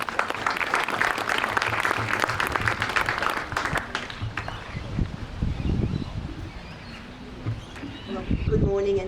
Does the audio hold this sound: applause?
yes